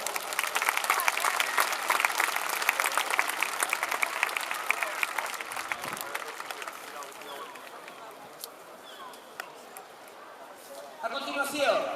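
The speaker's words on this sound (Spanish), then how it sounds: "¡Su aplauso!" A crowd applauds at a medieval jousting show in A Coruña, with loud clapping that gradually thins and fades toward the end before a brief swell. Faint voices and movement sound underneath.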